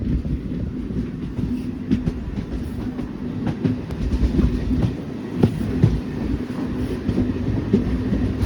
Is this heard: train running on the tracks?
yes